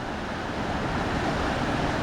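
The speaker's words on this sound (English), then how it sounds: "And that is Yosemite Creek." Yosemite Creek flowing about 50 yards upstream of the falls on Yosemite's North Rim, a steady broadband rush of water that holds even and continuous with no one speaking.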